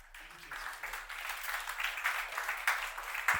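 Applause from a conference audience at a mentorship, entrepreneurship and networking event, a steady broadband patter of many hands building slightly over a few seconds, with faint voices mixed in.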